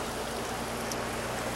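Water from Elkhorn Creek gravity-flowing through small gravel-lined mussel rearing tanks, a steady, even rushing trickle close by with no pauses or voices.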